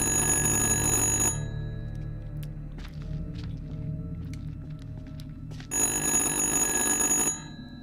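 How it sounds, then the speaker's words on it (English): A phone rings in the horror game Little Hope, a loud sustained electronic ring that stops, leaves a quieter stretch of faint clicks and movement, then rings again just as loudly. "that's the phone ringing that wasn't working before"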